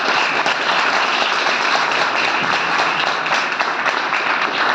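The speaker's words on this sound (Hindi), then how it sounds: "एक जोरदार ताली का।" Loud, sustained applause from an audience at an education department event on music, a dense continuous wash of many hands clapping up close.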